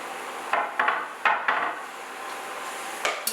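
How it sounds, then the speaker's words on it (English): Half a pound of shrimp dropped into a hot pan for sautéing while making a noodle stir fry, giving a few sharp clacks and scrapes over a soft, steady sizzle, close and moderately loud. "I'm going to saute the shrimp in here until it is cooked."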